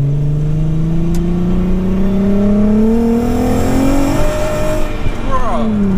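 A VW Mk2 Golf with a swapped-in R32 engine accelerates hard. The loud engine note climbs steadily in pitch over several seconds, then drops briefly at a gear change before rising again, all heard from inside the car.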